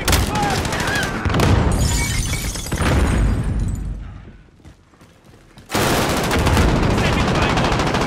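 Sustained automatic gunfire in Call of Duty: Modern Warfare, loud and dense with bursts of machine-gun fire and a brief lull before firing resumes at full intensity.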